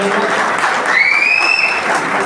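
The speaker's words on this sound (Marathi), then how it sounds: "जोरदार टाळ्या." Audience applause at a retirement and sixtieth-birthday felicitation ceremony, a steady dense wash of clapping filling the whole moment at close, even loudness with a brief whistle-like tone rising over it midway.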